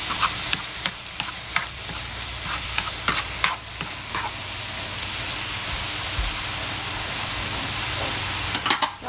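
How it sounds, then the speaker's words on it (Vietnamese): Pork hock stir-frying in a cast iron pot, a steady soft sizzle with repeated scraping clicks from stirring, close and fairly quiet. "Mình không cần xào chín lắm đâu cả nhà, mình vừa xào vừa săn tới là được rồi."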